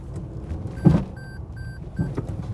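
Toyota GR Yaris four-wheel-drive hot hatchback drifting, with a low, rough drivetrain rumble, a couple of harsh thumping bursts, and three short, evenly spaced electronic beeping tones, all fairly faint.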